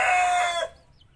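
A Rhode Island Red hen gives a short, loud, close call that ends abruptly and is followed by quiet, with no talking.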